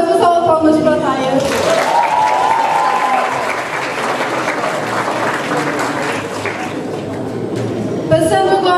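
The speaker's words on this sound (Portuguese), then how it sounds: "E mais uma salva de palmas para a Taya." An audience at the KCAP 2018 awards show gives sustained applause, dense clapping filling the hall for several seconds while a presenter speaks over the start and end.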